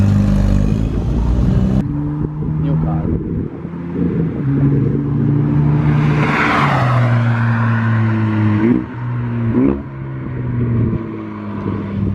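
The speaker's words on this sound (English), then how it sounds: "Here they come down the straight, blasting." Dallara race cars with Ford EcoBoost engines, around 300 horsepower, blast down a straight one after another. Loud, droning engine notes rise and then drop in pitch as each car speeds past close by.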